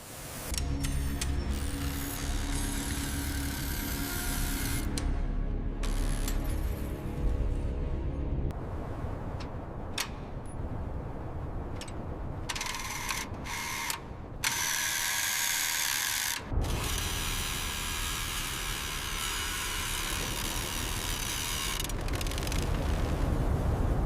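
A diamond-toothed drill bores into Martian ground with a harsh, grinding mechanical whine that shifts in pitch and texture, cutting off abruptly several times and restarting, loud and close throughout.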